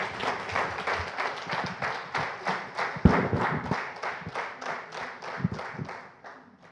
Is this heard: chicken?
no